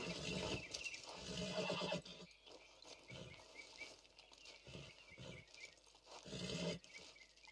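A horse in Red Dead Redemption 2 whinnies and snorts in loud, strained bursts, several calls spread across the moment with breathy pauses between them.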